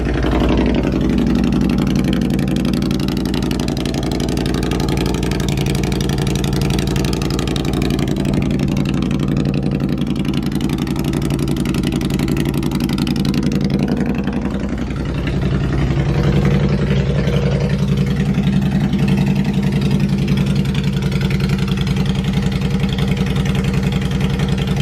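A Honda Shadow bobber motorcycle engine, cold-started without choke, runs at a loud, steady idle close by, its deep rumble holding throughout with a brief dip midway.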